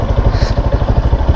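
Monarch Tempest 250cc motorcycle engine, a copy racer, revving loudly up close with a steady pulsing, chugging rhythm and a rattly edge.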